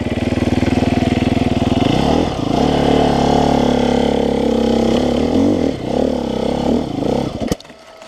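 A 300 SEF-R motorcycle climbing a hill in soft mode, engine close and loud, throbbing steadily before shifting into rising and falling revs, then cutting off abruptly near the end.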